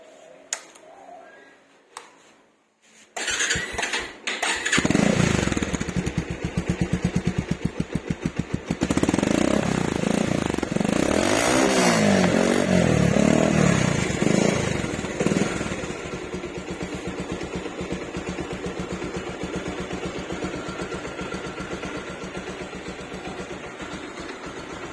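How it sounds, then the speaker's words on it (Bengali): A motorcycle engine cranks after a quiet stretch, catches with a few sharp pops, revs up loudly, then settles into a steady, close idle putter with no talk. "গাড়িটার ইঞ্জিনের সাউন্ডটা শোনাই দিই।"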